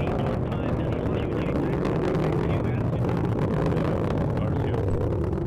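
A Minotaur IV rocket's first-stage motor roars just after liftoff, a steady, dense broadband rumble that holds at an even loudness throughout without a break.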